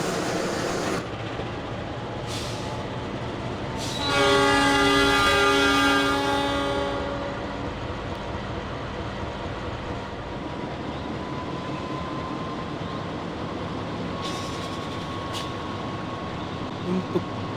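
Locomotive-hauled train pulling out of Bangil station in Trainz Simulator, a loud horn blast followed by steady engine and rail rumble that continues alone for a long stretch.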